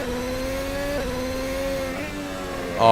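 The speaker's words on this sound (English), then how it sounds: "The sound of the engine being put through the gearbox, the rev changes as higher gears are engaged from the paddle shift" A racing car's engine is heard from on board as it climbs through paddle-shift upshifts, its steady whine stepping and dropping in pitch at each gear change, with a louder burst at the end.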